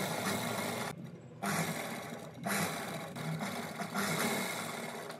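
An electric sewing machine stitches buckram into a kurti neckline with a steady, fast mechanical whirring hum. It runs in three bursts separated by short pauses, fairly quiet and with no talk.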